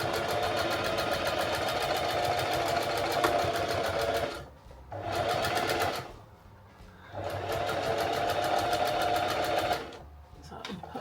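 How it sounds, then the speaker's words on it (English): Sewing machine stitching a zipper pouch, running in three bursts of steady rapid needle chatter with short pauses between as it back stitches forward and backward, close and fairly loud. "we are going to back stitch. So go forwards a bit and then backwards a bit and then forwards again"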